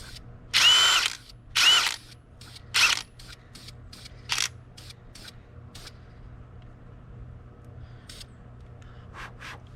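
Three short, loud bursts from an impact wrench with an impact-grade socket on a lower control arm bolt of a 2005 Mustang, followed by scattered light clicks and clanks of tools nearby.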